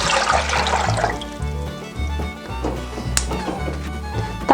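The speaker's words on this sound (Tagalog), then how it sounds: "ilagay po natin yung ating tubig dito sa ating kaldero" Water pours from a tap into a cooking pot to start a young coconut and jackfruit ice candy mixture, a steady close splashing and gurgling stream that runs throughout.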